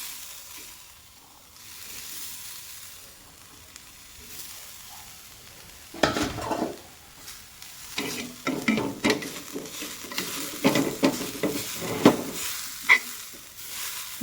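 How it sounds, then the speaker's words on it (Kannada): Dried coconut fries in a pan, quiet at first, then a loud sizzle bursts in with irregular scraping and stirring knocks that continue close up. "ನೆಕ್ಸ್ಟ್ ತೆಂಗಿನ ಗರಿ ಫ್ರೈ ಮಾಡುವ"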